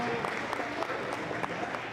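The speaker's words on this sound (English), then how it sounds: "do a little bit better applause for our seniors" Crowd applause for seniors at a high school wrestling senior night in a gym, a steady wash of clapping running through the whole stretch, fairly loud, with a voice or two mixed in.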